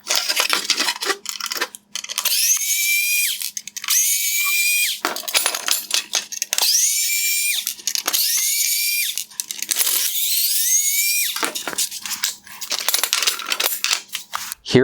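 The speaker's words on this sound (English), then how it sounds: "These are all held in place with T15 Torx screws, and I will go ahead and remove them now." A small powered driver whines in repeated short bursts, rising and cutting off, as T15 Torx screws are backed out of a 2016-2020 Tesla Model X LED headlight, with clicks and rattles between runs, close and alone.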